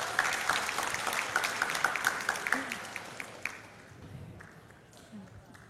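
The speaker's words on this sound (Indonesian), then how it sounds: "kita berikan tepuk tangan untuk Mas Tio." Applause from an audience at an Indonesian youth discussion event greeting a moderator, brisk clapping that starts full and fades out over a few seconds into quieter room noise with faint voices.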